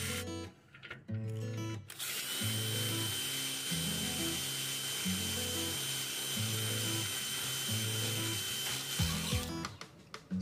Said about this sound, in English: So now I have to re-drill and move the holes for the security stems